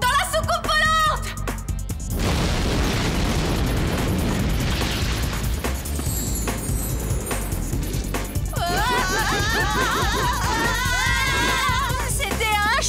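A cartoon explosion from a bomb inside a flying saucer, a loud roaring blast and rumbling burst mixed with dramatic music, whooshes and mechanical effects, with voices speaking briefly at the start and tones sweeping near the end.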